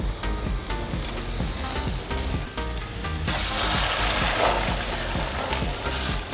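Spinach and egg thoran with grated coconut stir-frying in a pan, a steady close sizzle with the scrape and rustle of stirring that grows denser and louder halfway through, with no voices.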